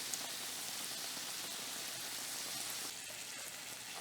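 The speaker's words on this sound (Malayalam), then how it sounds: "ഇനി അടുത്ത സൈഡും ഗോൾഡൻ ബ്രൗൺ ആവുന്നത് വരെ നമുക്ക് ഫ്രൈ ചെയ്തെടുക്കാം" Bread pockets fry in hot oil with a soft, even crackling sizzle, close but fairly quiet, steady for a few seconds with no talk.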